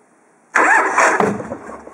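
A 1986 Harley-Davidson Heritage Softail Classic FLSTC engine cranks and catches after a moment of quiet, then settles into a loud, close, lumpy idle with no talking.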